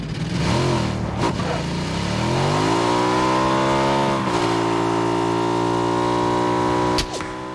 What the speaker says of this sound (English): But I have a motorcycle.